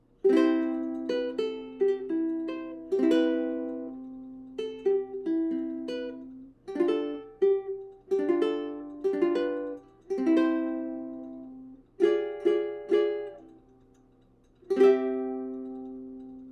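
Fingerstyle ukulele picks the last line of a song, clear plucked notes and small chord strums in short phrases with ringing decays, close and alone.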